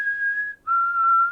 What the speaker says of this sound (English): and he does the whistle thing